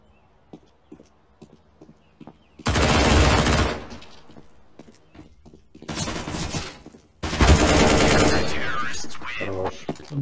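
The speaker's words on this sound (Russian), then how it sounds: "Я прям в него выстрелил." Bursts of rapid gunfire from CS:GO, several loud volleys separated by quieter stretches with faint clicks and thumps.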